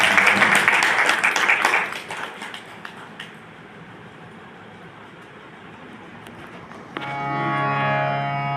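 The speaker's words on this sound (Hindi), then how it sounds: "एक बार आप लोग भी ताली बजाएं।" An audience at a hotel gathering claps for about two seconds, a loud burst of many hands that quickly fades to quiet, before music with a voice begins near the end.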